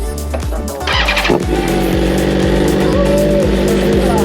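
A BMW M1000RR sport motorcycle starts with the key. A brief starter crank catches into a loud, close idle that runs steadily with a rapid pulsing beat.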